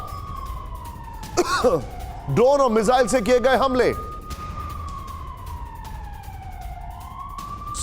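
A wailing air-raid siren during a Russian drone and missile attack on Odesa, Ukraine, rising and falling slowly throughout while a news presenter speaks over it in Hindi.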